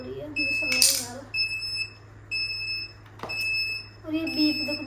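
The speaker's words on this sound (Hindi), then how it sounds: "और ये बीप देखो, बीच बीच में बीप करता है, बंद ही नहीं करता है" Urban Yog hair curler beeping, a string of steady electronic tones that cut in and out in short bursts, with a person talking over and between them.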